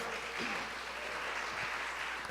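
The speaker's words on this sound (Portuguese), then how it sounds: "vamos aplaudir ao Senhor." Church congregation applauding during a Sunday service, a broad, even roar of many hands clapping that fills the room steadily, heard from a distance and without talk.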